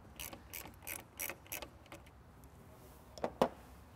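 Ratchet loosening bolts on a car's MAF sensor: a few quick soft clicking bursts, then a pause and two sharper louder clicks near the end, close and quiet.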